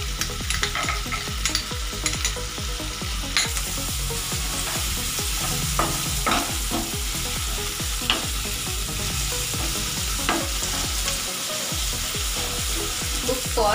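Cashews (kaju) fry in a pan with a constant close sizzle while a utensil stirs and scrapes them, giving repeated scratchy clicks over the hiss.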